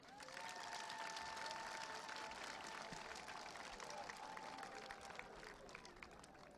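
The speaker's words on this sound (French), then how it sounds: "je voudrais respectueusement vous demander de les applaudir très très fort." An audience at a public gathering in Mouila, Gabon, applauds speakers with steady, fairly distant crowd clapping that holds for several seconds at a quiet level.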